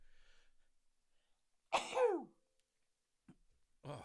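A single sharp sneeze bursts out in a quiet room, with a faint breath before it and a brief voice sound shortly after.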